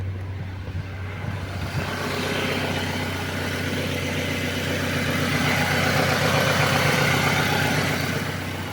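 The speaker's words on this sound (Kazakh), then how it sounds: "Осымен барлығы мотор ровно істеп тұр." A Toyota Carina E engine, repaired after an EFI short circuit, idles steadily with a smooth low hum and even mechanical rumble, close and constant throughout.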